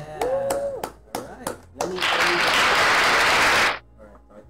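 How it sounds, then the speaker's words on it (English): A burst of applause from a live-stream audience, loud and dense for about two seconds before stopping abruptly, with brief talk and claps ahead of it. "let's give a round of applause to Sayam Secret"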